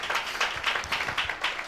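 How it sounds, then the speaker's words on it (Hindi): An audience claps together at a religious gathering, a steady run of sharp claps that rises and falls in loudness, fairly close and with no speech on top. "सिस्टर बढ़ रही है तो ताली बजाते हैं"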